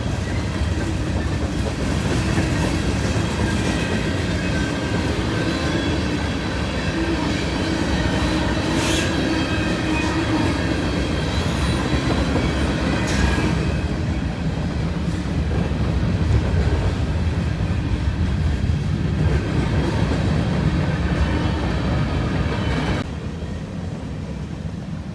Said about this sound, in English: I want a super long train.